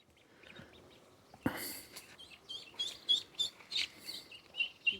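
Ducks quack in a series of short, nasal bursts near their duck house with water and vegetation in summertime Sicily, after a sharp thump and over quiet background noise.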